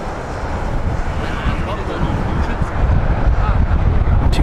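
A 2000 Air Serbia Airbus A319 lands at Heathrow, a broad, steady roar with wind buffeting that swells toward the end and stays loud throughout.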